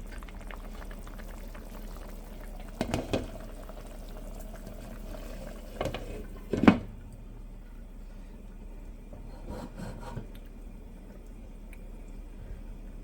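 A mola fish curry with green mango simmers in a covered pan, making a quiet, steady bubbling with a few louder pops and clinks scattered through it, and no voices.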